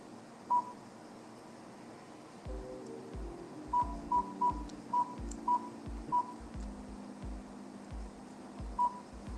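Phone keypad tones beep one after another as a number is entered, short evenly spaced presses over a faint background, with no talking.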